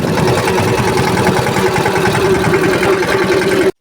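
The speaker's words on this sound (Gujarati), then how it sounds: "હાલો ટ્રેક્ટર લઈને આપણે જાવી છીએ" A tractor engine runs steadily on a village farm, a continuous loud, close mechanical drone with rapid low chugging that holds evenly throughout and cuts off abruptly at the end.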